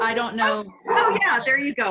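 A dog barks and yips in the background while people talk over it close to the microphone.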